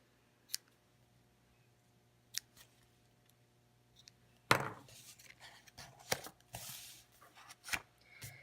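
Scissors trim a handmade craft card with tulip artwork: a few crisp, quiet snips spaced apart, then a burst of paper handling and rustling with more snips and clicks.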